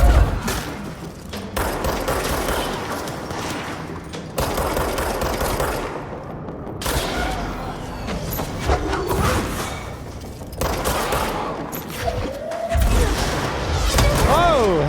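Dense, rapid automatic gunfire from the video game Control, with enemies in ballistic suits firing machine guns and miniguns, rattling in heavy sustained bursts with thuds throughout while someone talks over it.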